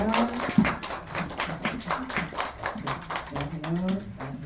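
An audience at a film festival screening Q&A claps to welcome guests onto the stage, rapid scattered claps running throughout, with a voice talking over the clapping.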